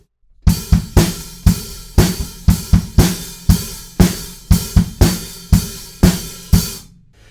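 A close, loud drum kit chorus groove without toms, punchy kick and snare hits in a steady rhythm, cymbals washing over the top, ending with a ringing tail.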